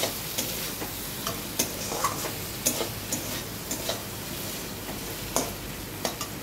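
A paneer and capsicum mixture is stirred in a pan over a medium gas flame, with a steady soft sizzle and regular sharp clicks and scrapes of the spoon against the pan, close up and without talk.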